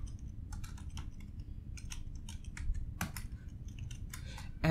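Someone types a terminal command on a computer keyboard, producing quick, close, crisp key clicks in irregular bursts with a few louder taps, with no talking over it.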